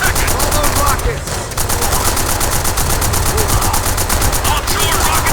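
Heavy gunfire and rocket blasts from a World at War shooter campaign battle, loud dense automatic bursts and explosions rattling continuously throughout with a brief dip partway, a voice calling out faintly beneath the din.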